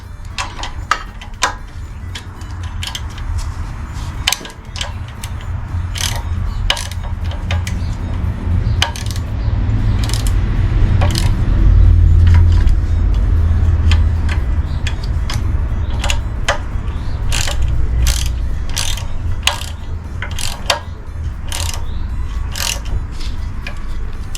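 A wrench tightens a bolt on a Howard 350 rotavator with repeated close metallic clicks and ticks over a steady low hum.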